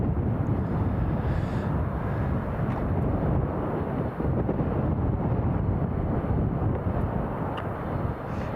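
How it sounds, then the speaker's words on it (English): An American Airlines A321neo jet taking off on its inaugural flight to JFK, a broad continuous roar from a distance, steady and rumbling, with some wind buffeting on the microphone and no talking. "that's the inaugural American Airlines A321neo off to JFK"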